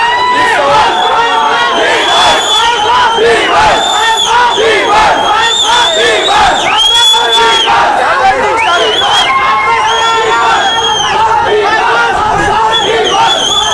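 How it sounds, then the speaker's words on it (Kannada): A large crowd at a Kannada film event for Kaatera cheers, whoops and chants, loud and unbroken throughout, with many voices shouting together close by. "ಈ ಜೈಕಾರ ಇದ್ರೆ ಸಾಕು ಇನ್ನೇನು ಬೇಡ ಸ್ವಾಮಿ"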